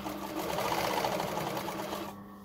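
Sewing machine running a 1.5 mm seam on a hoodie's inner hood lining, a steady fast whirring stitch up close that slows and stops near the end.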